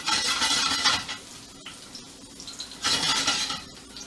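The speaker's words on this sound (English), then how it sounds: "We're gonna saute those garlics until they become a little translucent." Fresh garlic sizzles in hot oil in a pan, loud bursts of frying hiss that swell and ease, with a quieter stretch of utensil clinks and stirring in the middle.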